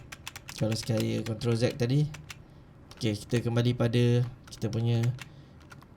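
Computer keyboard keys pressed while working in Blender 3D software, sharp close clicks scattered between and beneath someone talking.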